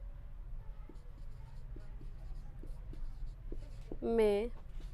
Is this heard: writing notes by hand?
yes